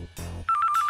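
A brief low thump gives way to an electronic landline telephone trill, a rapid warbling ring pulsing several times, loud and near.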